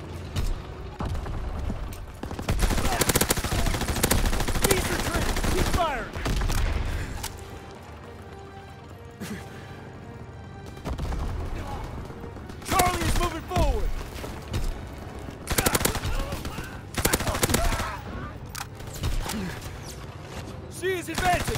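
Gunfire in the World War II shooter Call of Duty: WWII comes as repeated loud bursts and booming volleys, with shouted voices and busy battle noise between the bursts.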